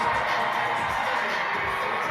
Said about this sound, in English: Getting loud. You listen to the crowd.